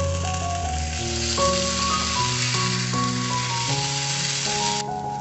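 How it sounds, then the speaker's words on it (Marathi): Brinjal slices fry in a little oil on a tawa, giving a soft, steady sizzle running under louder background music. "आणि परत झाकण ठेवून 5 मिनिटासाठी फ्राय करून घेऊ।"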